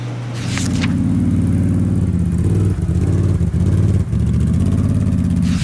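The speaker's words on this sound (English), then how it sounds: "Never mind the traffic out here" Road traffic passing outside, a loud steady low rumble of vehicle engines with brief dips as cars go by, heard close and without talk.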